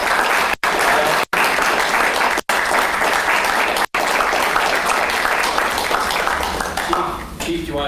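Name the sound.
applause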